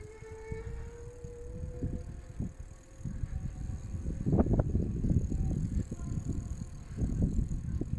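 An Eskute 250W electric trekking bike rolls under throttle-trigger power with no pedalling, its motor whine rising as it accelerates, joined by rumbling road and wind noise close to the microphone.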